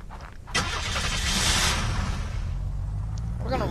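A car in the video game Unturned starts moving after a short quiet moment, its engine rising into a loud, steady drone that carries on without a break.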